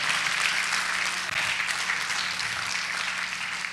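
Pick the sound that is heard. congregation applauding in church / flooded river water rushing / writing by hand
congregation applauding in church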